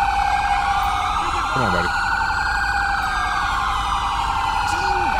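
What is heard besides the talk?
police car siren in video game GTA 5 LSPDFR mod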